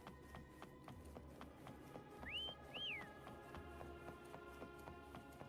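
A game character whistles twice in Wuthering Waves, two short rising tonal calls heard faintly over a rhythmic ticking, clopping game background, with no talk.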